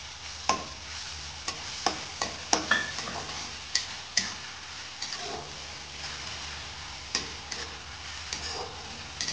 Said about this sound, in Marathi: तेल गरम झालंय का बघूया, त्याच्यानंतर आपण टाकू अद्रक लसूण पेस्ट